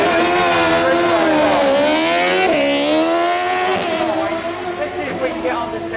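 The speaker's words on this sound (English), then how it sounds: "This bike apparently is putting out something like 190 brake horsepower with nitrous oxide and air shifter" A nitrous-fed motorcycle of about 190 brake horsepower with an air shifter screams past at the Brighton Speed Trials, loud and close, its engine pitch rising and dropping sharply at quick gear changes before fading slightly.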